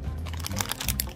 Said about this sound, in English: Now this will show how crunchy Max are.